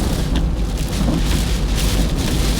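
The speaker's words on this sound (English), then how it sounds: "Whoa, I'm being blown all over the road" Loud, constant wind roaring and buffeting against a moving car and the microphone, a dense low rumble with no voices.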